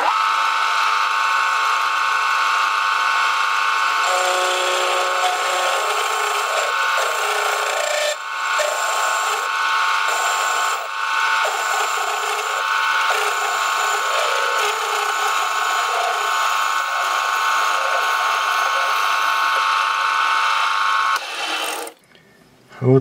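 Power tool grinding or cutting through a steel blank taken from an old sword, making a steady loud rasping whine that runs continuously for about twenty seconds with slight dips, then stops abruptly near the end.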